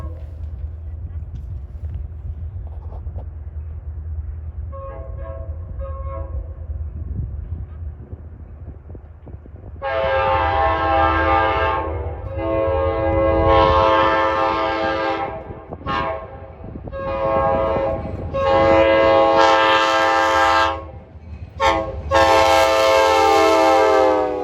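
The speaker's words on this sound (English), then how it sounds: "here comes train 49 from Middletown" NJ Transit train 49 from Middletown approaches on the mainline at Collins Curve, a low diesel rumble building before long, loud, repeated horn blasts sound close by, with people talking over the approach.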